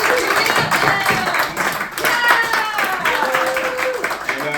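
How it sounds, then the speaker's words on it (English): Audience applause and cheering in a comedy club for someone's first time on stage, a dense steady wash of clapping lasting the whole stretch with voices mixed in. "Big round of applause for the first time on stage"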